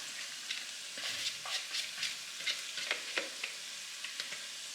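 Cabbage hitting a hot pan sets off a steady, bright sizzle. Soft scrapes and stirring clicks break through it now and then, and no one speaks.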